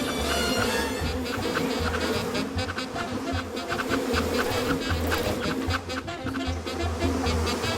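A dense swarm of killer bees drones loudly and continuously, many wings overlapping into a thick, close buzz with no talk over it.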